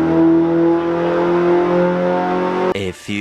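Car engine revving hard on a dyno during a dyno day with a 2020 Toyota Supra and Nissan GTRs, a loud sustained high-rpm drone that cuts off abruptly near the end, followed by brief talk.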